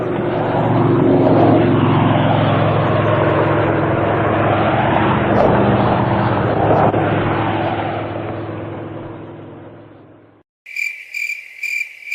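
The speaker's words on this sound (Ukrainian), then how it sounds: "Так звучить літак." A steady, loud propeller airplane drone with shifting whine and rumble, holding for about ten seconds before cutting out; brief chirping bursts follow.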